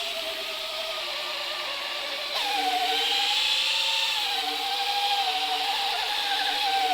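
An electric polisher with a foam pad buffs faded outboard motor paint, a steady whirring hum that jumps louder and higher partway through as the speed increases, then holds with slight wavering.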